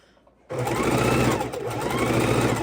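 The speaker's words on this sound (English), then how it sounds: "And let's sew this together." A sewing machine starts up after a short quiet moment and stitches quilt fabric scraps together in a steady, fast, loud mechanical whir that runs without a break, heard up close.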